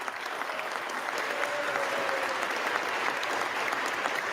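Dense, sustained applause fills the House chamber at a steady level from start to finish, many hands clapping together with no pauses.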